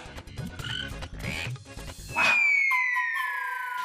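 A frog croaks in a series of short, rhythmic calls, followed by a loud, sustained whistling tone that slides downward and lingers, like a dramatic sound effect in a television serial.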